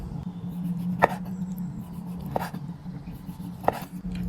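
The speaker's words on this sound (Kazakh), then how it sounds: "Тура солай домалақтап свекламызды да тураймыз." A knife chops beetroot on a board with three sharp, evenly spaced strokes. A low hum runs steadily underneath.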